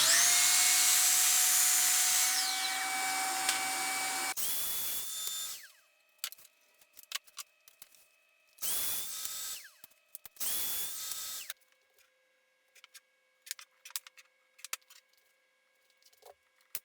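Power saw cutting wooden toe kick parts for a kitchen island: a loud steady whine as the blade runs, then shorter bursts of cutting separated by quiet gaps, with small knocks and clicks of handling in between.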